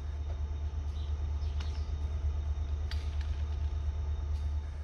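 An MBTA cable-laying train backs up slowly near the Lincoln Road crossing, giving a faint, steady low rumble with a few scattered creaks and clanks, heard alone at a distance.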